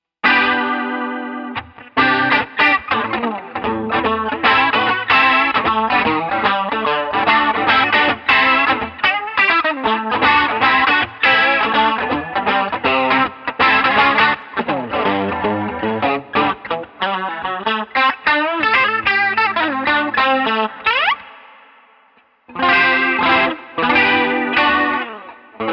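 Electric guitar played through a Boss CE-2 chorus pedal set to high speed, giving a fast, Leslie-like warble over loud strummed chords and riffs, with a brief pause before the playing resumes.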